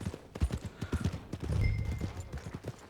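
Horse hooves clip-clop at a steady walking rhythm in Red Dead Redemption 2, close and fairly loud, with a brief swell of rougher trotting noise midway and no talking.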